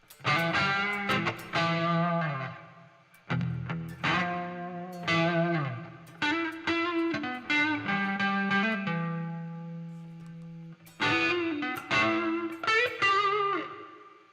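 Distorted electric guitar plays chords and sustained notes through a simulated amp cabinet, loud and up close, in choppy phrases separated by brief pauses.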